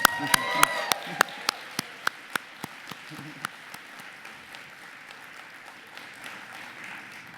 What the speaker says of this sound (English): I want a round of applause for Aaron and Andrew, who are awesome.